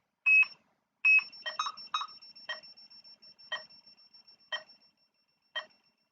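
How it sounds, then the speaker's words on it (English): A bench power supply's current limiter emits short, high-pitched beeps at irregular intervals, mixed with faint clicks, in an otherwise quiet setting. "it's beeping at me that we're using more than 100 MAs"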